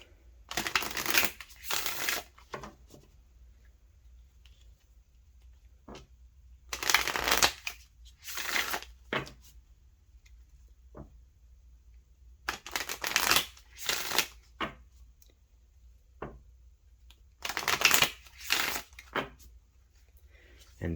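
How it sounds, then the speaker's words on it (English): Tarot cards are shuffled in several quick riffling bursts separated by pauses, close to the listener, with a quiet room in between. "give it a nice shuffle"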